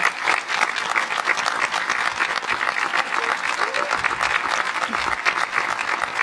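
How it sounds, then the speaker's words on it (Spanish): An audience at an anniversary celebration applauds steadily for several seconds, a dense, even patter of many hands clapping close by that holds its level throughout. "Un aplauso."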